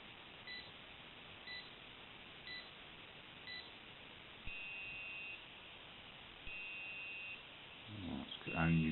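An Omega Speedmaster Skywalker X-33 wristwatch timer beeps, a short electronic beep about once a second, four times, followed by two longer tones and a flurry of rapid beeps near the end, quiet and close.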